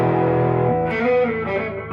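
Electric guitar played through a Fender tube amp with light distortion, sustained chords ringing out and then shifting, loud and close with no voices.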